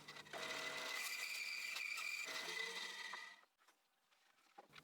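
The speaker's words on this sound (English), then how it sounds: "In the next step I'm using a bandsaw to make the cuts" A bandsaw cutting wood for DIY climbing holds makes a loud, steady whining buzz for about three seconds, then stops abruptly, leaving faint workshop clatter.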